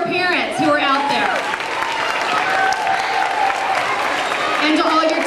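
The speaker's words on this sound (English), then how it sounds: "I want to give a round of applause to all your parents who are out there." A crowd of parents and children at a school assembly claps in sustained, dense applause, loud and continuous throughout, with some voices mixed in.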